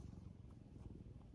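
A contented domestic cat purrs close up with a soft, steady, low rumble that pulses evenly throughout.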